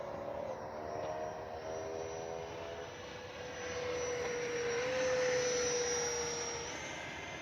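A Freewing L-39 80mm electric ducted-fan RC jet flying low overhead in the evening, a continuous whining engine roar that swells in loudness and pitch as it passes.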